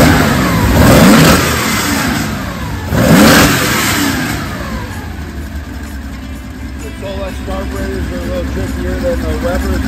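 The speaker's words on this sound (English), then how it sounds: "Motor's completely rebuilt, but Mike's dialed in the carbs and got them working now" A classic car with a completely rebuilt motor and freshly tuned carburetors revs up twice in strong bursts, then settles into a rough, throaty idle, loud and close, with no talk over it.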